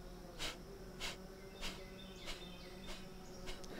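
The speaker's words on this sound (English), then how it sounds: "Now we'll do a pranayama practice called Breath of Fire" Breath of Fire pranayama: sharp, forceful exhales through the nose in a steady rhythm, about six evenly spaced puffs, close and quiet.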